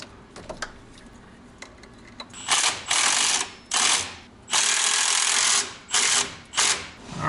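Hand tools ratchet in bursts while an alternator is refitted on a truck's engine: a quiet clicking opening, then six or so loud, close ratcheting runs of varying length separated by short pauses.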